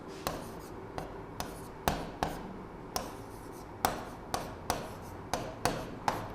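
Chalk or marker tapping and scratching on a board in a classroom, short sharp strokes coming in irregular bursts over a quiet room with no talk.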